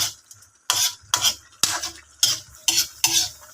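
A utensil scrapes and stirs spinach sautéed with sardines in a pot in repeated strokes, about five or six sweeps, close and clear with faint sizzling between.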